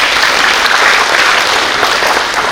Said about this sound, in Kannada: ಅದಕ್ಕೊಂದು ಜೋರಾಗಿ ಚಪ್ಪಾಳೆ ತಟ್ಟಬೇಕಾಗಿರ್ತಕ್ಕಂಥ